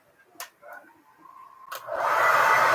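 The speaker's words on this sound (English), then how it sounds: "hair dryer doesn't work either. I have to use it on low." A couple of soft clicks and rustles, then a hair dryer with a broken high setting switches on at low and blows with a steady, close whooshing hum.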